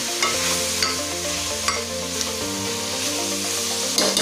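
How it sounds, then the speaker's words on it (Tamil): Tomatoes and onions sautéing for mutton masala, a continuous sizzle with rhythmic stirring scrapes and a few sharp spatula taps, close and alone without talk. "தக்காளியும் நல்லா வதக்கிக்கோங்க அது நல்லா வதங்கணும்"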